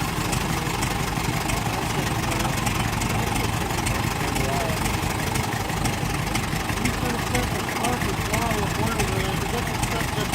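A Ford Model T engine idles and runs a little rough while warming up, a steady dense mid-pitched chug that stays loud and constant throughout with no clear talking.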